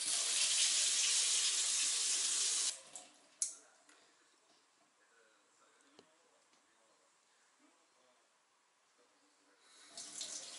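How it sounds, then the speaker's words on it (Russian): Cold water gushes loudly from a Finnish-style tap for a few seconds, then cuts off, leaving quiet clicks and faint handling noises before the flow briefly resumes. "вода холодная пошла"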